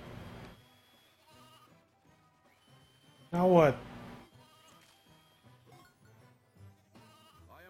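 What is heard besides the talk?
sheep bleating in a video game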